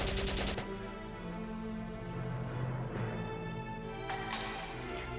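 Gunfire in the video game Valkyria Chronicles: rapid crackling shots open the clip, then a low droning game backdrop, with another burst of bright shots near the end.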